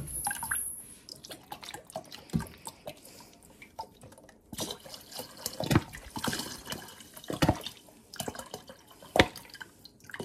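Vinegar poured into about one and a half cups of water in a home kitchen while preserving tomato sauce and garlic, giving close, uneven splashing and dripping liquid with intermittent louder bursts and no talking.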